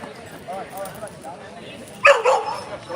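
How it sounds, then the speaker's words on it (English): A dog gives a sharp bark near the end outside the Russian Consulate, after a stretch of people talking in the background. "We're here with Neo the Wonder Dog"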